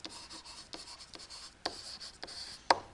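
Pen writing on paper during a geometry lesson, a few soft scratchy strokes and taps spread across the moment with one sharper tap near the end, close and quiet with no talking.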